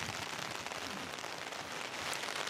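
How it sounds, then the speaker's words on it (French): Rain drumming steadily on an umbrella outdoors, a dense close patter that stays even and continuous, with no voices. "on entend la pluie qui tambourine sur votre parapluie"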